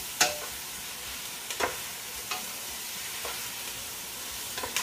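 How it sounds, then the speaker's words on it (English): Andouille sausage, already cooked, browning in a pan for jambalaya as a spoon stirs it, giving a steady low sizzle broken by a few sharp scraping clacks spaced about a second apart. "Stir this around just a little bit"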